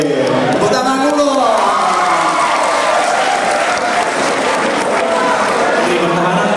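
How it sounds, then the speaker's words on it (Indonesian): Loud, sustained applause and cheering from a school audience at a high school event, a continuous wash of clapping with voices and whoops throughout, shouting rising over it near the start. "Tepuk tangan dulu."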